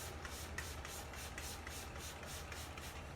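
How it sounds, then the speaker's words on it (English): Rubbing alcohol lightly sprayed around an acrylic cup decorated with mermaid-scale alcohol ink, heard as a faint, steady series of quick, evenly spaced misty spritzes with no talk. "So I'm just lightly spraying it all the way around."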